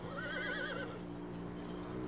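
A horse whinnies in a wavering, high-pitched call lasting under a second, over a steady low ambient drone in a high mountain setting; no one speaks.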